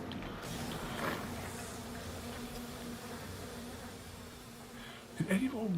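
In BioShock Remastered, a swarm of bees hums in a faint, steady buzz throughout, with a short creaking mechanical sound near the end.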